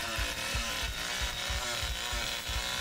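Leatherface's chainsaw in the Texas Chainsaw Massacre video game revs in a loud, rough, continuous engine drone with a rhythmic, pulsing low chug throughout.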